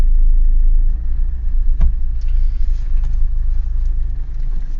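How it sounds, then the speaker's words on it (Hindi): A Mahindra Scorpio SUV's engine hums steadily at low revs as it rolls forward during a driving lesson, with a single sharp click partway through and no voices over the drone. "अब ये गाड़ी बढ़ रही है"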